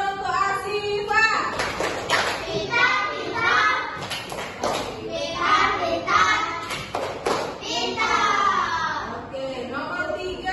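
Primary school children in a Malaysian or Indonesian classroom perform a rhythmic clapping chant, with sharp claps punctuating their loud sung voices in a patterned beat.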